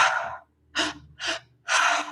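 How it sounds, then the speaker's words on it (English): Active pranayama breathing in and out through the mouth, heard up close as one breath trailing away, then three sharp, forceful breaths in quick succession with brief silent gaps between them. "it's an active breathing meditation. It's in 3 parts where it's all in and out through the mouth"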